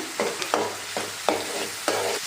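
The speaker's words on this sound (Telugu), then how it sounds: "కొంచెం కొత్తిమీర కొద్దిగా కరివేపాకు వేసి ఫ్రై చేసుకోవాలి" Coriander and curry leaves frying in oil for a small-fish tamarind curry, stirred in steady strokes: rhythmic bursts of sizzle and scraping about every half second over a constant background hiss, close up with no talking.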